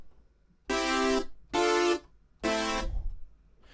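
Three bright, buzzing supersaw chords from the Serum synthesizer with 16 unison voices, thick and detuned, each held briefly then cut, the last one trailing into a low rumble.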